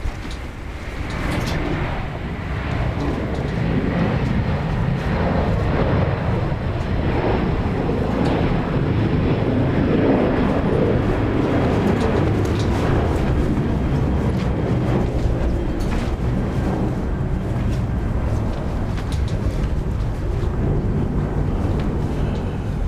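An Asiana Airlines passenger jet on Flight 573 to Tashkent takes off at Incheon Airport, a loud, broad, sustained roar building over the first few seconds and holding steady, mixed with gusty wind noise.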